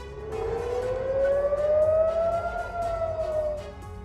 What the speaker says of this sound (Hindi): मध्य इजरायल के कई शहरों में हवाई हमले के सायरन बजने लगे